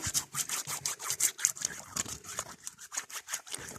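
Hands wet with water and citric acid are rubbed and scrubbed together, giving soft rhythmic wet friction strokes close by.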